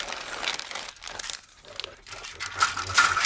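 Close, crackling crinkles come from a plastic bag of Italeri T-55 Iraqi Army model kit parts as it is slit open and removed, in irregular bursts with a brief lull in the middle before louder rustling resumes.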